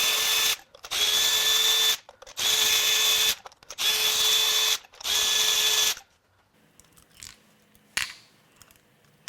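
A cordless power ratchet or drill spins in five sustained whirring bursts with short pauses between them, pulling spark plugs from a BMW M54 engine. A few faint clicks and clanks of handling follow.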